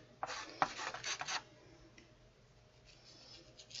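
Acrylic paint is scraped onto textured canvas under trees in a black-and-white landscape painting. Several quiet, close rasping strokes come in the first second and a half, then softer scattered scrapes follow.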